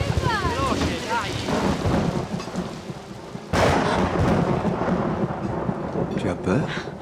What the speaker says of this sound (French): J'ai jamais supporté le tonnerre